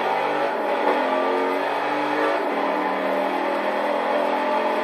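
A loud, steady engine roar from a supercharged V8 in a 2019 Chevrolet Corvette ZR1 in the video game Forza Horizon 4 drones continuously with a deep rumbling growl, close and sustained throughout.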